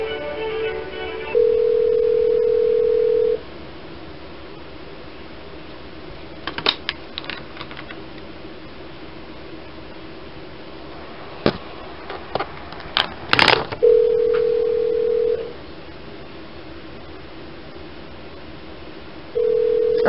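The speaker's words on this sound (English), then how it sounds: "It's going to go ringing off the hook again." A telephone call line gives a steady electronic ringback tone in repeated bursts, broken by a long gap filled with clicks and brief knocks before the tone returns, loud and close with no talking.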